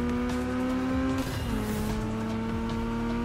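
A car drifting through a turn in a driving video game, with a loud steady engine drone that breaks into a long screeching tire squeal before the engine note settles again, all close and without speech.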